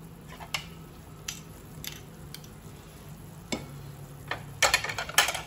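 Maggi noodles with mayonnaise and cheese stirred in a pan, soft scattered scrapes and taps of a spoon, quiet at first, then a quick cluster of louder knocks near the end.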